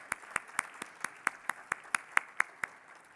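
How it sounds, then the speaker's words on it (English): Steady, evenly spaced claps at a culinary institute's grand opening ring out about a dozen times in under four seconds, crisp and fairly close, with no voices over them. "How about a round of applause?"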